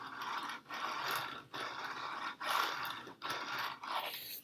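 A skateboard creaks and grinds in repeated pulses as weight presses down on the board and its slightly dirty, not perfectly round wheels, a close ratcheting rattle with short pauses between pushes and no voices.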